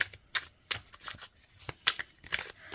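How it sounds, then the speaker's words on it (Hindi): Tarot cards are drawn and handled from a deck in a series of crisp, close papery snaps and slides, about eight quick flicks spread irregularly across a few seconds in an otherwise quiet room. "अब ये कार्ड्स निकालते हैं"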